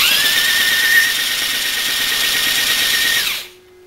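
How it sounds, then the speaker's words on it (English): A handheld electric drill whines loudly and steadily while spinning an Onan P220G engine during a rebuild, then winds down and stops near the end, leaving a faint hum. "I think the drill motor idea is pretty good, running it."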